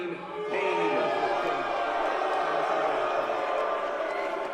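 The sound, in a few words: boxing audience applauding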